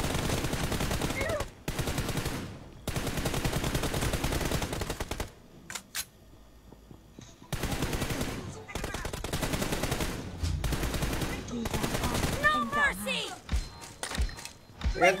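Gunfire in a shooting video game: dense automatic bursts and repeated shots in long stretches, broken by short pauses, loud and close, with other game sounds mixed in near the end.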